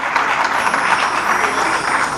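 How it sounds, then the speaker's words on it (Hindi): A crowd at a Lahore tribute event for Mohammed Rafi claps in a dense, steady wash of applause that stays loud and even throughout, with no talking over it. "बहुत तालियां बज रही हैं"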